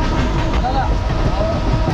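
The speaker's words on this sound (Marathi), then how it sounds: "गाडी आली" A Mumbai local train pulls into a station during the Chinchpokli Chintamani visarjan crowds, a steady rumble with rail clatter and squeal beneath busy platform chatter and voices throughout.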